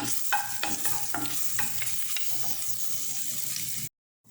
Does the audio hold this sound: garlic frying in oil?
yes